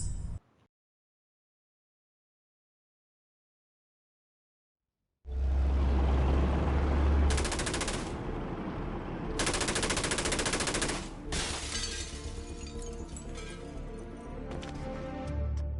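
Heavy machine-gun fire from the player shooting at a tank and enemy soldiers in Assassin's Creed Chronicles: Russia, loud sustained bursts with rumbling low end that begin after several seconds of silence and run to the end.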